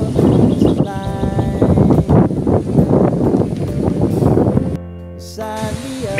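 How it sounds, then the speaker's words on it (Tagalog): Gusty typhoon wind buffets the microphone in rough, uneven bursts in a rural village, loud and close, then drops off briefly before a quieter stretch near the end. "Medyo pabugso-bugso na ang lakas ng hangin."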